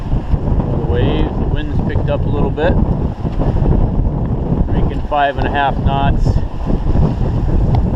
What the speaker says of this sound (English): We're getting buffeted around quite a bit. The waves, the wind's picked up a little bit.